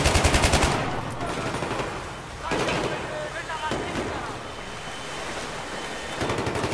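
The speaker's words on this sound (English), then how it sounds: "Suppressing fire!" Machine gun fire in the Battlefield 3 co-op campaign: rapid rattling bursts at the start and end over a dense, roaring battle backdrop, loud and close, with no talk.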